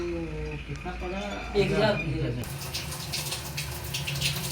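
Water runs steadily from a newly fitted Bajaj geyser being tested, a continuous hiss with a voice speaking over the first half.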